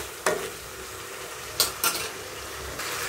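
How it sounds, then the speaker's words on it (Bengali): Duck meat stir-fried in oil in a pan, a steady soft sizzle with a few sharp scraping stirs of a utensil against the pan, close and alone. "যে কষাচ্ছি, কষাই কষাই তেল বের হয়ে আসছে"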